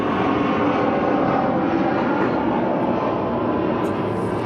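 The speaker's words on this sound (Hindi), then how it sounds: "बाहर हवाई जहाज जा रहा था" Airplane passing overhead outdoors, a loud continuous broadband engine roar that stays steady throughout with no pauses and no talking.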